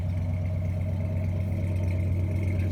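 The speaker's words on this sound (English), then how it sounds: "fairly quiet on the inside of the engine compartment, and it's got a nice little rumble" A 1976 Ford F150 engine idles steadily on a cold day, a deep continuous low rumble with even mechanical hum, close and fairly loud throughout, no talking.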